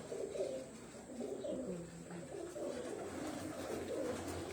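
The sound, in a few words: pigeons cooing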